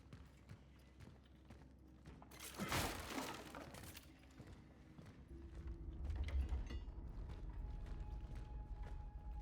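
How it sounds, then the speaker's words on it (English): Creaking of old buildings in the dark horror game Cronos: The New Dawn, a broad burst of groaning and cracking in the middle followed by a low rumbling ambience, heard alone. "Buildings creaking."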